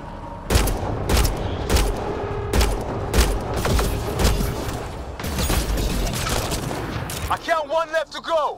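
Rapid bursts of gunfire and explosive booms in the video game Mass Effect Andromeda, loud and close, with shouting voices over the shooting.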